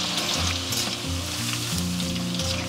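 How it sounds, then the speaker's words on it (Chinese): Pork tenderloin deep-fries in oil over medium heat, a loud, steady close sizzle and bubbling that runs unbroken throughout, with no talk. "然后保持中火炸。 下肉的时候我们就尽量速度快一点啊，分两锅炸都可以。"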